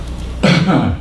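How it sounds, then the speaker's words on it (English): A person with chronic obstructive pulmonary disease gives a single short, rough throat clear or cough, close and fairly loud, after a moment of near quiet. "I'm coughing."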